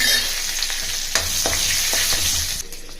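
Mustard seeds, green and dried red chillies and curry leaves sizzle and crackle steadily in hot oil for a peanut rice tempering, with a few sharp pops and stirring scrapes close by, no talking.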